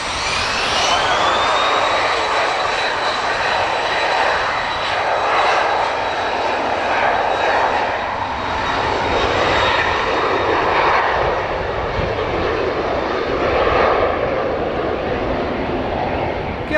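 Turkish Airlines jet bound for Istanbul taking off at Dublin Airport, a loud, continuous engine roar with a rising high whine that holds steady throughout, heard from nearby with no voices.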